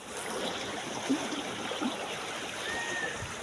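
Fast-flowing rainy-season floodwater rushes past fallen trees, a steady broadband wash with no pauses, fairly close and moderately loud, with a faint voice briefly in the background.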